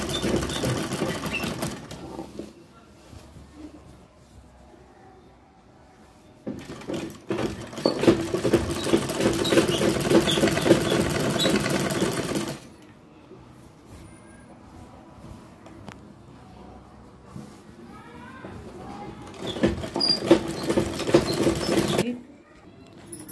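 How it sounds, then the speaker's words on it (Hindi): A sewing machine stitches the centre seam of a salwar in two long bursts of fast, rhythmic whirring, with a quieter stretch between them and someone talking over parts of it. "ऐसे एक के ऊपर एक सिलाई ऐसे रखनी है बीच वाली जो है हमारी सेंटर की और फिर हमें ऐसे सिलाई लगानी"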